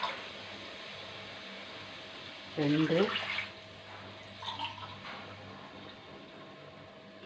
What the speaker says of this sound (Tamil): இதில் 3 டம்ளர் தண்ணி ஊற்றிக்கலாம்.